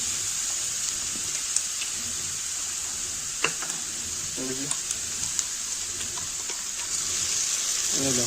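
Tomato paste frying in a pan for pav bhaji, a steady bright hiss of sizzling with occasional soft clicks and stirring scrapes, close and continuous throughout.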